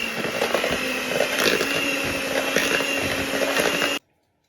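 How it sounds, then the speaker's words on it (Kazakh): An electric mixer whirs steadily and loudly as it beats sour cream with boiled condensed milk and sugar into a cake cream, running for about four seconds before cutting off abruptly. "Енді біз оны миксермен араластырып алайық."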